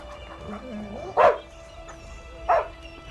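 Two short dog barks, about a second apart, sound at moderate distance over a low background hum.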